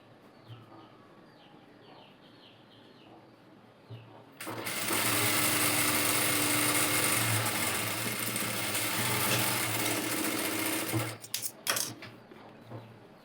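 A domestic sewing machine stitches the side seam of a garment during a tailoring lesson, running steadily and loudly for about six seconds before stopping with a few short bursts, with quiet room noise before and after.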